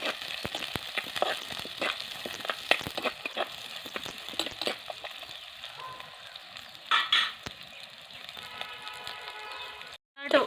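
Onion, ginger, garlic and green chilli sautéing in a pan, a steady sizzle with repeated scraping and stirring clatters near the pan, briefly louder bursts as it's stirred, with someone speaking over the cooking.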